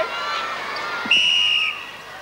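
A referee's whistle ends a 1993 Australia versus Jamaica international netball test at the Perth Superdome, a single clear shrill blast over a murmuring arena crowd.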